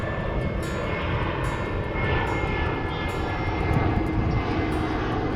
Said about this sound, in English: It's a Delta plane.